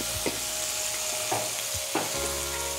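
Coriander and tempering ingredients fry in a pan for a South Indian curd rice, a constant close sizzle with a few brief stirring scrapes and a low stove hum underneath.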